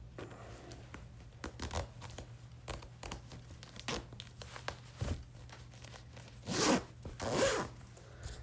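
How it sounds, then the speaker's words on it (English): A hoodie zipper is worked with short rasping pulls and fabric rustles, ending in two longer, louder zips near the close, close-up in a quiet room with no speech. "I gotta zipper up my little hoodie."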